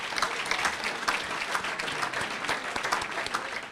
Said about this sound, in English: let's applaud all of us for each other.